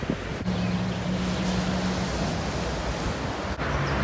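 Sea waves and surf along a pier on the Ligurian coast of Italy, a dense steady wash of broadband noise with wind buffeting the microphone, loud and continuous without speech.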